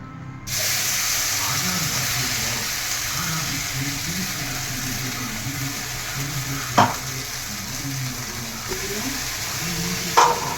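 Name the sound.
spice paste frying in a wok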